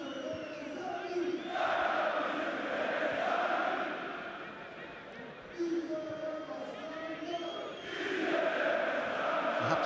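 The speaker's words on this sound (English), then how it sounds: "the support of the home crowd has really been fantastic" A home crowd at a football match in the Dinamo Zagreb versus Arsenal Champions League qualifier, a distant stadium roar that swells and falls in waves while a commentator talks over it.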